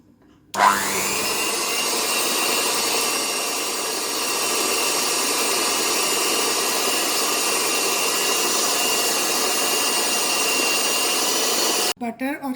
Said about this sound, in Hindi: बटर और चीनी दोनों अच्छी तरह से बीट हो गए हैं।